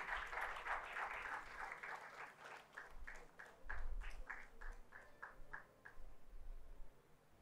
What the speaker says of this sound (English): A huge round of applause for Rahul.